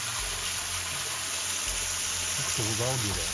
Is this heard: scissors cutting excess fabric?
no